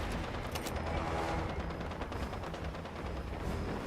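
Sustained, dense automatic fire from a Gatling gun in Fallout 76, a continuous rattling barrage with faint rapid pulses running steadily throughout, loud and close with no talking.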